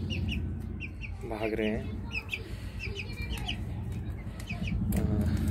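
Several chickens clucking and a rooster-like call nearby as they eat onions, with repeated short chirps and a person talking briefly over them.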